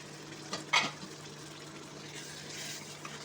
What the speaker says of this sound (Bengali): চামচ দিয়ে মাংসগুলো নেড়ে চেড়ে কষিয়ে নিব